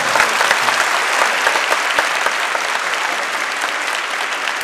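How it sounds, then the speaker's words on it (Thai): A seated audience applauds steadily at a Thai lecture or talk event, dense continuous clapping that stays loud throughout with no speech over it. "ขอเสียงปรบมือให้กับทิศเม"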